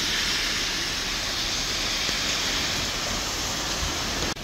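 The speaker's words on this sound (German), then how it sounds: "So, das ist jetzt der kleine Bach" A small stream swollen by flooding rushes in a steady, dense broadband hiss that holds even throughout, close and unbroken, with no voices.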